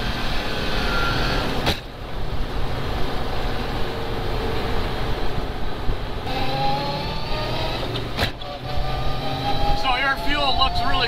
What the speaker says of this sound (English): So we'll try a run here and a power shift to fourth and see what happens.